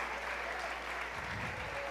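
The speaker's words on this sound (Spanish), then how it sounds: "otra vez un aplauso, por favor, para todos ustedes" Live talk-show audience applause fills the moment as a soft, steady wash of clapping, heard at a low, distant level with no voices on top.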